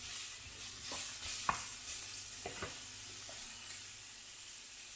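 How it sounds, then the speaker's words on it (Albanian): Onions sizzle and fry steadily in a pan for ground-meat toast, with several sharp stirring scrapes and clicks over a constant soft hiss. "E fërgoj."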